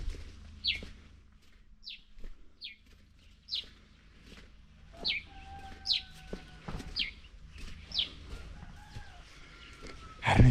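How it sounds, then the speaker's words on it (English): A rooster and chickens call from inside a small house, with short sharp chirps and clucks repeating every second or so over a quiet outdoor background, ending in a louder thump. "There's a cock making noise inside this small house."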